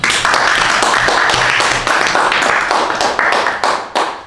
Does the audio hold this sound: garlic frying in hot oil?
no